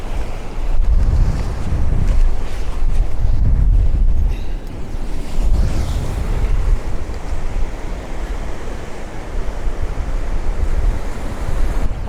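Ocean waves break against a breakwater in a continuous, loud roar of surf, with heavy wind buffeting the microphone throughout and swells surging and easing in turn.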